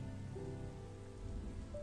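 Steady rain patters on surfaces as an ambient backdrop for a tabletop role-playing session, a dense, even hiss with a soft low rumble underneath and no talking.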